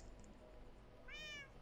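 A cat meows once in the Minecraft video game, a short rising-and-falling call that comes in near the end over steady background game noise.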